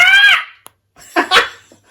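A human voice imitating a pterodactyl, a shrill rising screech followed after a short pause by a second raspy squawking cry, loud and close.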